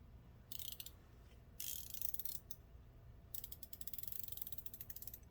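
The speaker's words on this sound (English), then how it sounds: "if you actually listen, shut that off, to the clicks, there's actually quite a few clicks in the ratcheting end" A ratcheting wrench end clicks in quick, close bursts, short runs of dense ratchet clicks separated by brief pauses, crisp and alone against a quiet background.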